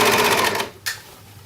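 A sewing machine stitches a dress seam with a quick rhythmic burst of needle strokes, loud and close, then stops briefly before a short final whir.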